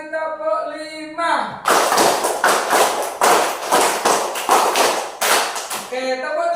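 A class of elementary students plays a rhythmic clap game, clapping as a group in a rapid, steady run of about a dozen crisp, close claps, with speech just before and after.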